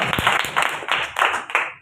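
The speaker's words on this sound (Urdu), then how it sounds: "تالیاں خداوند کے جلال کے لیے" A church congregation claps during a Sunday morning service, several bursts of applause rising and falling in waves, fairly close and bright, with no voices over it.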